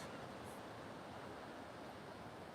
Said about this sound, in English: Hear those ocean waves.